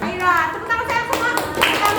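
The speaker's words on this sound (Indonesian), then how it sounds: "Ayo, tepuk tangan saya semua." A class of schoolchildren claps hands together, a quick burst of close, sharp clapping mixed with children's voices over about two seconds.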